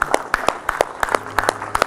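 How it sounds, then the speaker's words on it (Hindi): A small group claps in a rhythmic burst during a yoga session, sharp distinct claps landing every fraction of a second, close and clear. "चलो एक बार तालियां बजा दो इन सबको।"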